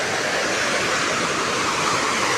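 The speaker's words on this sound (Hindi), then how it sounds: "इस पुल में जान तो काफ़ी है, लेकिन ये नदी बहुत ही पावरफुल है" The flooded Beas river in Himachal rushes with overwhelming power, a loud, steady roar of churning water that fills the whole stretch without letup and drowns out everything else.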